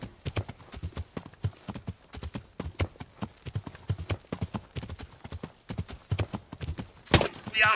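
Horse hooves clip-clop in steady, rapid rhythm throughout in Kingdom Come: Deliverance, close and fairly loud, with a brief sharper burst near the end.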